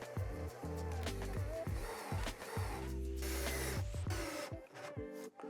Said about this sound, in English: you then can start putting in the screws